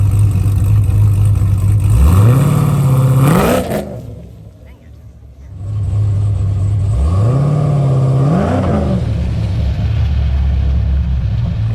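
A supercharged Cadillac CTS-V on a race track revs up twice, each time rising in pitch as it accelerates, with a brief quieter dip between the two pulls. The engine is loud and close.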